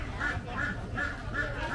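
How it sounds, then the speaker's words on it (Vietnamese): Live ducks quack at a busy market in Phu Thu, Can Tho, Vietnam, four evenly spaced nasal quacks close by over steady crowd murmur. "Gà sống vịt sống nè."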